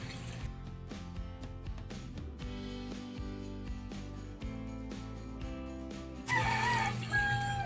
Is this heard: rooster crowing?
yes